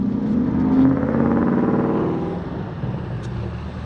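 A car passes close by on a road in the United States, its engine hum and tyre roar swelling loud early on, then fading to a lower steady rumble.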